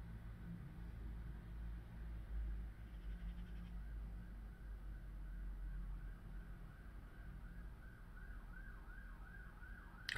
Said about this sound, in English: so many police cars on my road today as well